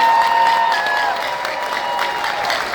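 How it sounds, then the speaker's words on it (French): A concert audience in Brussels applauds, a dense patter of clapping with some crowd noise that tapers slightly over a few seconds. "applaudissez pour lui."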